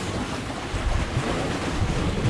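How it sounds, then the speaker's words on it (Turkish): Ocean surf rolls and churns near the shore, a rough broadband wash with gusty wind buffeting the microphone, steady and moderately loud over a couple of seconds. "Hemen dalga geldi."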